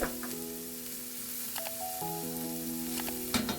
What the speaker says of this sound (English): Add the diced onions and cook for 5 minutes while stirring frequently.